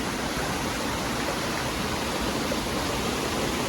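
Water rushing down a rocky hillside, a dense, continuous roar of flowing water that stays loud and steady throughout.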